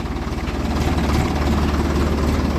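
A Ford tractor engine runs steadily at a low, even throb, pulling a bullock cart, with a constant close drone and no voices.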